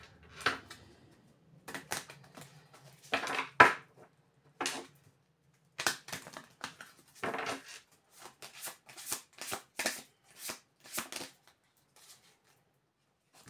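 A deck of tarot-style cards is shuffled close by in quiet surroundings, giving a long run of soft riffling flutters and taps at an irregular rhythm.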